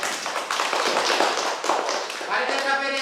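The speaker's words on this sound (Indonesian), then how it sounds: "mari kita tepuk tangan untuk diri kita sendiri" A classroom of students claps for themselves in a quick, dense patter of hand claps, then a voice starts speaking as the clapping fades near the end.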